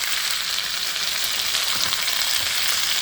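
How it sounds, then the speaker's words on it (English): Green beans and carrots stir-frying in a hot pan on high heat give a loud, steady, continuous sizzle with no talking. "And here it's sizzling."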